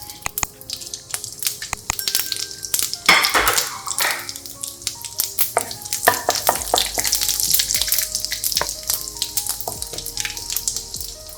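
Half a bay leaf and cumin seeds fry in hot oil for kadai paneer, a close, crackling sizzle with sharp pops and spatters throughout, intensifying briefly early on, no voices.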